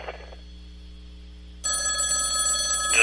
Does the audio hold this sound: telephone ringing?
yes